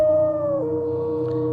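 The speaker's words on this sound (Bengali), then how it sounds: "এবং দু একবার শেয়ালের ডাক পেলাম" A jackal's howl in a dark, lonely setting used in a horror story, one long, mournful wavering call close and clear, sliding slightly lower midway and holding to the end, alone without talk.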